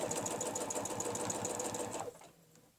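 A sewing machine stitching a curve along a quilting ruler, running at a steady rapid mechanical chatter close up for about two seconds before stopping, with faint room tone after.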